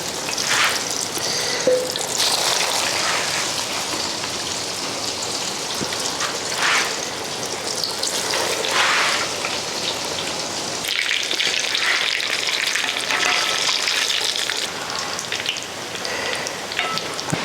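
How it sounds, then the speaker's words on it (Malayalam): Egg- and breadcrumb-coated chicken cutlets frying in hot oil, a loud continuous crackling sizzle with popping bursts heard up close and with no talk. "ഇനി നമുക്ക് കട്ട്ലേറ്റ് പൊരിച്ചെടുക്കാം."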